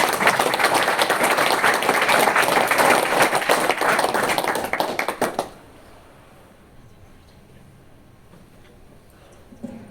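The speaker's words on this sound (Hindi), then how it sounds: "बजाओ बजाओ ताली।" Audience breaks into dense, loud clapping for about five seconds, then it cuts off abruptly into quiet room ambience.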